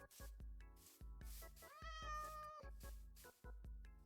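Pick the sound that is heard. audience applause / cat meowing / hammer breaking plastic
cat meowing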